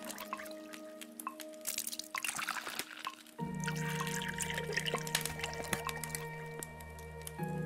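Water being purified in the survival game Day R: soft liquid pouring and dripping effects over a steady low game hum, with a louder, denser stretch partway through and no talking.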